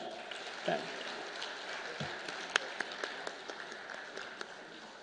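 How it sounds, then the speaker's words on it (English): An audience at a medical conference awards ceremony applauds, heard as soft, fairly distant continuous clapping with a few sharper individual claps standing out. "A big round of applause."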